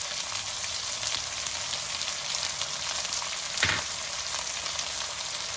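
Green chilli pieces frying in hot oil alongside onion pieces, a loud, steady hissing sizzle with one brief scrape of a spoon partway through.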